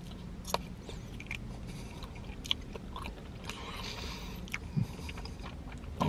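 Someone bites into and chews a Cadbury chocolate egg close by, with soft crunches and moist mouth sounds over a faint room hum and no talking.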